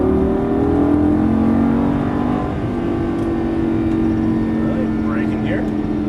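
A Lamborghini Gallardo LP550-2 accelerates hard on a track, its steady engine note droning loud and close throughout while an instructor talks over it.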